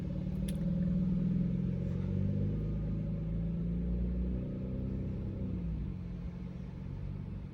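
BMW car driving away near a beach parking area, a steady low engine rumble that holds level and then eases slightly as it pulls off, with no talk over it.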